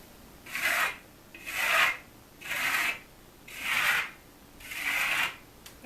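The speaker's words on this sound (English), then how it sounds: "So for this finish, we'll continue on troweling down the wall." Steel trowel smoothing a plaster finish on a wall, five rhythmic raspy scraping strokes about a second apart, close and clear, with short pauses between them.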